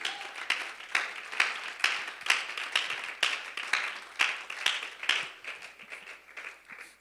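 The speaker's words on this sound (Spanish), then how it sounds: "Aplauda con más corazón la presencia de Dios." A church congregation claps along in a steady rhythmic beat, a roomful of hands striking together at a regular pace, moderately loud with a slight reverberant tail.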